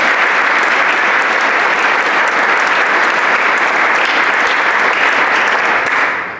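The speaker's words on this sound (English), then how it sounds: "give him a round of applause" Sustained applause from an audience at a college sports Hall of Fame induction ceremony, dense and loud clapping filling the room for several seconds before tapering slightly at the end.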